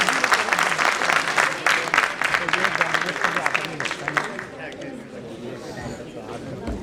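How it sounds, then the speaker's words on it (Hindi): Loud audience applause at a panel discussion session of a conclave in Lucknow, a thick sustained wash of many hands clapping, strong for several seconds and then easing off, with voices faintly audible underneath. "इस चीज के लिए एक बार जोरदार तालियां तो होनी चाहिए"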